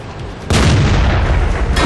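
A Churchill 7 heavy tank's main gun booms in World of Tanks, a sudden loud blast with a long, dense rumbling tail, and a second burst starts near the end.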